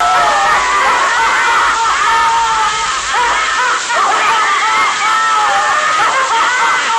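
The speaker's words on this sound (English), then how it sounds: "a collection of sailors that, when activated together, fills the house with a shrieking laughter that can drive you insane" A collection of handcrafted sailor figures shrieks with laughter together, a loud, dense, continuous chorus of high-pitched cackling and screaming voices overlapping throughout.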